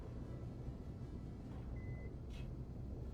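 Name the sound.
beep in a video game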